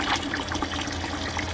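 A 12V DC water pump in an off-grid cabin pushes water through filter holders set to bypass, giving a close, steady trickling and pouring flow throughout.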